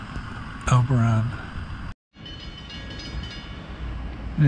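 Rumbling rail noise with a brief train horn blast early on, then a steady rolling drone as a southbound train pulls into Elberon station, New Jersey, with a voice speaking over it.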